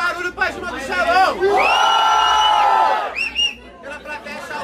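Crowd at a rap battle cheering and whooping loudly in one sustained collective shout, with lighter voices and chatter before and after it.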